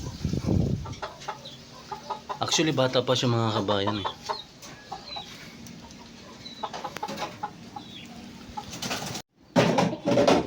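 A chicken kept at home clucks in a short burst of loud calls near the start, followed by a quiet stretch with someone speaking in Filipino and faint household noise.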